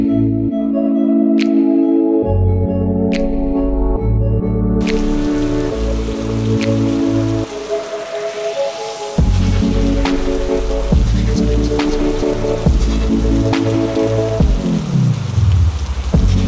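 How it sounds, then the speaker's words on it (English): Heavy rain pours down in a dense forest, a steady hiss with scattered drips that thickens after the first few seconds, heard beneath continuous tonal music. "In 10 minutes everything changed and started to rain so heavy."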